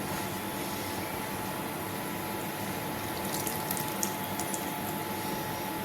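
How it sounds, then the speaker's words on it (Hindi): Grated cucumber for raita being wrung out by hand, giving a steady wet trickle and drip of water that runs throughout, with a few faint clicks and splashes near the end. "इसका पानी निचोड़ देंगे ना, मैंने धुला है तो इसमें पानी रह गया है"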